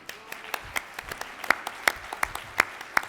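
Sparse, scattered claps from an audience honouring a priest's fifty years of profession, a handful of separate hand claps rather than full applause, fairly close and moderate in level.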